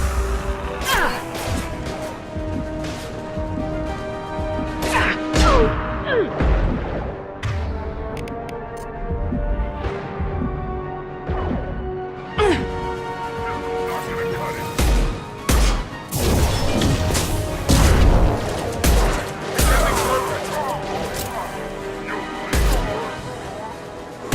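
Gunfire and impacts in the video game Mass Effect 2, with repeated loud sharp bursts and crashes over a layered combat soundtrack that runs the whole length.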